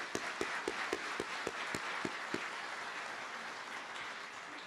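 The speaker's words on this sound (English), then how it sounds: "Let's give ourselves a round of applause." At the College of the Muskogee Nation 2024 graduation, an audience applauds, a few sharp, close claps standing out in a quick rhythm over a wash of broader clapping that gradually thins.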